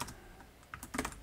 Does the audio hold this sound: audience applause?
no